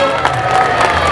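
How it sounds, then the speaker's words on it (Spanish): A crowd at a concert in Huancayo, Peru claps and cheers in one steady, loud burst of applause, with shouts mixed in. "Fuerte el aplauso"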